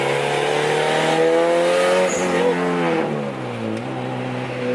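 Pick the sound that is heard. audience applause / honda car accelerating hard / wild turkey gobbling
honda car accelerating hard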